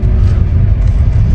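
A BYD electric car accelerates on the Calax expressway, a steady loud low rumble of road and drivetrain noise filling the cabin without a break.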